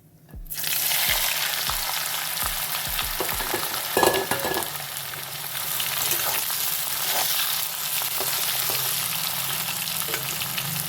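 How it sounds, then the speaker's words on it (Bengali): New potatoes fry in oil in a kadai over low heat, giving a steady, close sizzle with a few sharp clinks of stirring near the start and no talking. "তাই কড়াইতে প্রয়োজনীয় তেল দিয়ে অল্প হিটে আলুগুলোকে খুব সুন্দর করে ভাজছিলাম।"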